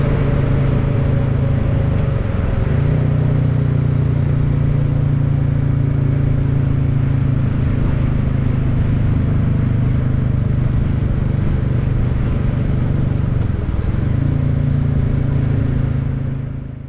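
Steady engine drone of a Royal Enfield Classic 350 single-cylinder motorcycle ridden in winter, a loud continuous hum with a few brief dips in pitch as the rider shifts down for engine braking, no voices.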